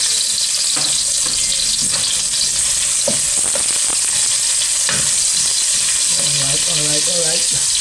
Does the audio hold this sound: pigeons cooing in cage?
no